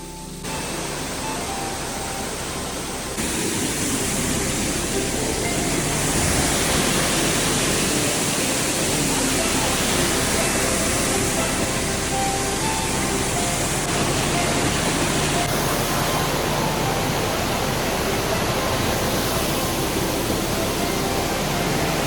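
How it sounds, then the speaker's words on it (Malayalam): A waterfall on the Warrie circuit hiking trail in Springbrook roars as a dense, unbroken rush of falling water. It is moderately loud at first, then swells noticeably louder after a few seconds and stays steady. "വെള്ളച്ചാട്ടം പിന്നെ"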